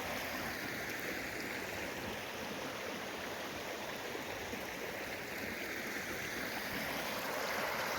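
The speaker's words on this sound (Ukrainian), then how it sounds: "Ось такий стрімочок шикарний." A small stream in Slovakia feeding a pond babbles and rushes steadily in winter, a constant close wash of flowing water with no pauses.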